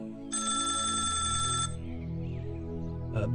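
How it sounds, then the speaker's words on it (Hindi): A telephone on a police officer's desk rings loudly with one long electronic trill. It breaks off, and a short clatter follows near the end. "कमलनाथ के टेबल पर फोन बजता है।"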